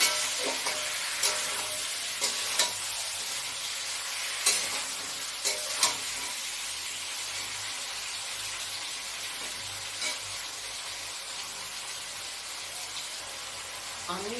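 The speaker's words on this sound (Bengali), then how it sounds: "ভালোভাবে কষিয়ে নিতে হবে" Potatoes and tomatoes stir-fried in a pan for a fish and eggplant curry: a steady hiss of frying runs throughout, broken by occasional scraping strokes of the spatula, close and moderately loud.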